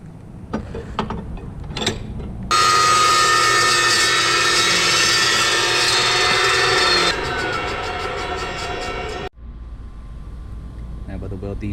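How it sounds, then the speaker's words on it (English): A power tool cuts loudly and steadily through a motorcycle headlight housing, removing the middle piece for an electric motorcycle build, a sustained harsh grinding whine with a few short bursts of tool noise before and after. "I'm going to cut the middle piece out and make a nice long opening"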